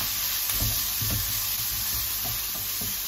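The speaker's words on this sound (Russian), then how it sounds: "пока у меня здесь жарится моя морковка с луком" Carrots and onions frying in a pan, a loud continuous sizzle with a few soft stirring scrapes near the start.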